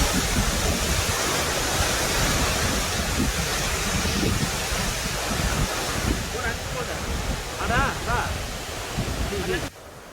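Hebbe Waterfalls in Chikmagalur, Karnataka, roars with a loud, constant rush of falling water, while voices speak intermittently over the torrent and the sound thins abruptly at the very end.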